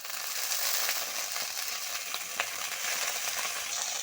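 Coriander leaves fry and get stirred in a pan with chilli and garlic already browned in oil, giving a steady close hiss with a few soft scrapes of the spoon and no voices.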